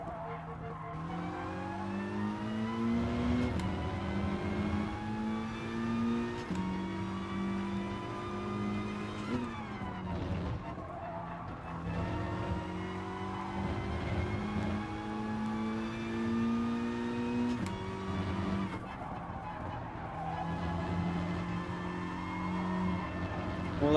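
Race car in Gran Turismo Sport during an FIA manufacturer test with extreme tyre wear, engine note rising through the gears with repeated upshifts and brief lifts, steady and close throughout.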